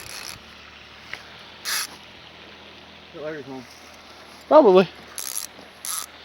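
A fishing reel's drag clicks in short ratcheting bursts while a carp is being played, with several separate spurts of clicking scattered between people talking nearby.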